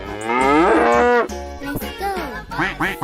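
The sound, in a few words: cow mooing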